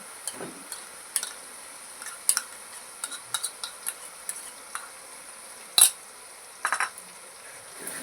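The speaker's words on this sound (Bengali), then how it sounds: "এটা ভালো করে নাড়তে থাকবে যতক্ষণ না এটা একটু লাল লাল হয়ে যায়।" A spoon scrapes and taps in a pan as yogurt is stirred into a spiced beef curry, the sparse close clinks and scrapes coming in irregular strokes over a quiet background.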